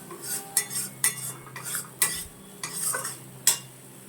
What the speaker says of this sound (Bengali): এটা একটুখানি হাই ফ্লেমেই নাড়বো, বেশি লো ফ্লেম করার দরকার নেই, কিন্তু নাড়বো কন্টিনিউ